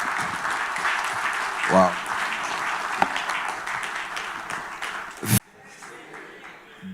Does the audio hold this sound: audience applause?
yes